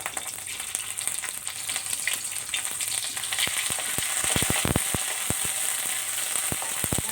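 Rat meat stir-fried with curry paste in oil, a close, steady sizzle broken by a rapid run of loud scraping and clattering spatula strokes against the pan in the second half, with no voices.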